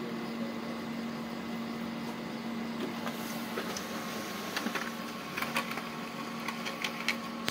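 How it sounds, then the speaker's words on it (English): A Brother MFC L2710DW laser printer running a print job, giving a steady mechanical whir with a low hum, plus scattered clicks and ticks of the paper feed, heard close and alone. "it is started to print the document"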